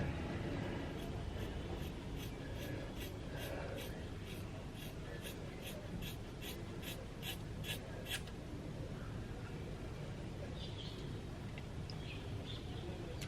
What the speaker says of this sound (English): I'm literally legitimately cutting it on camera